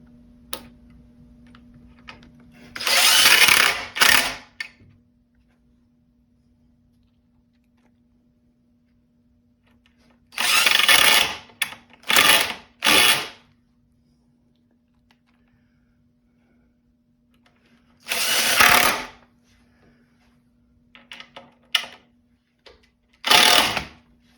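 An impact driver fastens a wooden strawberry planter in four bursts: a single long one, then a closely spaced triple, then another single and a shorter final burst, with quiet pauses between them.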